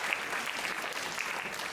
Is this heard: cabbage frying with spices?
no